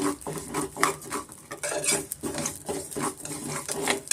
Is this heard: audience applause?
no